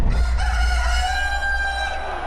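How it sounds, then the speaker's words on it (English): A cockerel crows once at the Comrades ultra-marathon, a long drawn-out call over a low rumbling background. "when you hear that Max Strimborn's cockerel crow"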